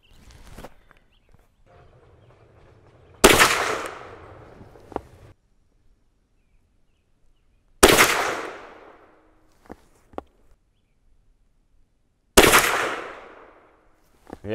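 Three loud, sharp shots, each with a long decaying echo, spaced several seconds apart, from a CVA Hunter .44 Magnum rifle fired outdoors with a 23.5 grain powder charge. Quiet stretches fill the gaps between shots.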